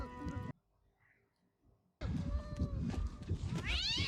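A cat meows in a television drama scene, a short sharp cry followed after a near-silent gap by a dense, busy soundtrack with rising and falling whining calls.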